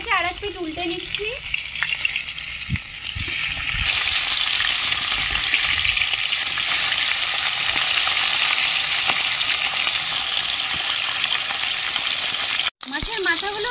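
Salt-and-turmeric-coated fish heads sizzle in oil in a karai after being turned over, giving a steady, close hiss that swells after a few seconds, with a short burst of speech at the start and a brief sharp break near the end.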